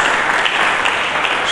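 Sustained applause from a church congregation fills the sanctuary, dense overlapping hand claps held at an even, fairly loud level from start to finish.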